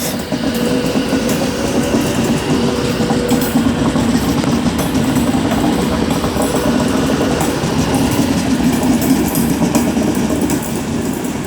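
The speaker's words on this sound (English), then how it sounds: "138 is now departing with a service to Preston" Class 138 diesel train departing Wolverhampton station on the West Coast Main Line, a loud continuous engine drone with rolling wheel rumble and rhythmic rail clatter, close by and steady throughout.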